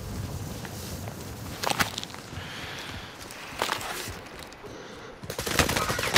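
Bursts of gunfire in a Call of Duty: Modern Warfare battle royale match, with sharp cracks around two, four and five seconds over a low, rustling game backdrop.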